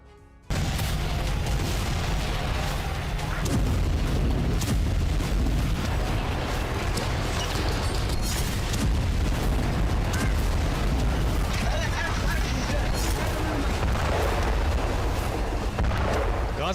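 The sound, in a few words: bombing explosions in Gaza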